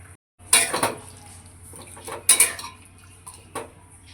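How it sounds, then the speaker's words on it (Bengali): Metal lid set onto a pan of chicken cooking with cashew paste and lemon, giving a few sharp clattering clanks in separate bursts, close and clear over a quiet kitchen background. "এবারে চিকেনটাকে ঢাকা দিয়ে রান্না করব।"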